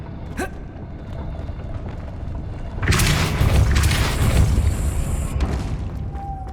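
A Depulso force spell goes off in Hogwarts Legacy, a sudden loud whooshing blast that swells after a brief shimmer and lingers with a bright, airy rumble before fading.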